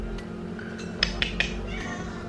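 A cat gives one short, clear meow up close at a moderate level, with a few soft clicks and light handling noise around it in an otherwise quiet room.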